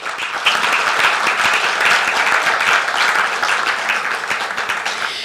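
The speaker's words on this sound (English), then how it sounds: "Please, a round of applause." Sustained audience applause fills a hall at the closing ceremony of the 2nd Africa Health Workforce Investment Forum in Ghana, a dense, steady wash of many hands clapping at close range for the whole stretch.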